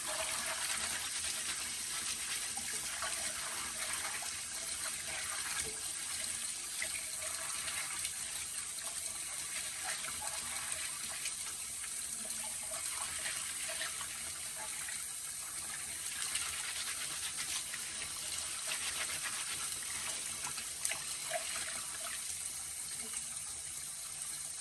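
Greens are rinsed under a running kitchen sink tap, a steady close rush and splash of water with light shifting as the leaves move through the stream, no talking throughout.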